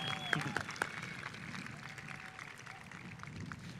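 An audience at the Harlingen High School South 2018 graduation ceremony applauds, a steady wash of crowd clapping with a few sharper claps early on, heard from a distance with faint voices mixed in.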